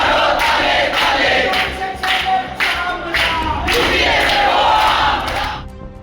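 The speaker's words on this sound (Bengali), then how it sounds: "প্ল্যাটিনাম জুবিলি বিল্ডিংয়ে বসে স্লোগান দিতে শুরু করেন প্রতিবাদী জুনিয়র ডাক্তাররা" Protesting junior doctors seated inside the Platinum Jubilee Building chant slogans as a loud crowd, with rhythmic shouted phrases repeating in a steady cadence and fading at the end.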